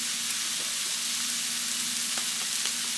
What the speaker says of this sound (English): this is what I mean by cooking and toasting your seasonings